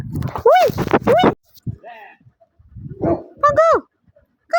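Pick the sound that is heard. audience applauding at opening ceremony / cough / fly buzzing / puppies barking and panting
puppies barking and panting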